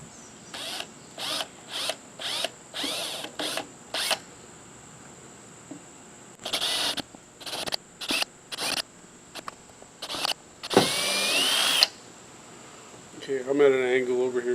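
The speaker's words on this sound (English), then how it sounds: "I'm just going to actually mark this with the small drill bit." Small drill bit boring into black plastic on a TZD truck foldable tailgate ladder, with a series of short whirring bursts and one longer run, separated by pauses, ending under a voice.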